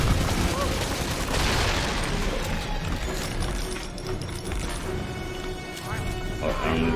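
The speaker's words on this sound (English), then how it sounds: "Oh, I did not mean to shoot." Gunfire in the BioShock 2 video game: bursts of shots crack through a busy, noisy mix of game sounds while a person talks throughout.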